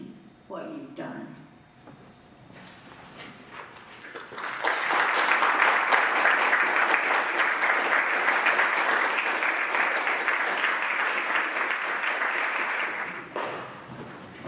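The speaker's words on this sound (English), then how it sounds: "Let's have another round of applause for them" Audience applause for the readers at an evening literary performance, starting with a few scattered claps and swelling into a full, steady round that holds for several seconds before tapering off at the end.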